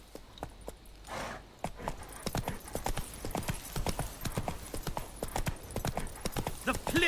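Roach the horse gallops in The Witcher 3, a rapid, steady run of loud hoof clip-clops with brief whinny-like bursts, a voice speaking briefly over the hoofbeats.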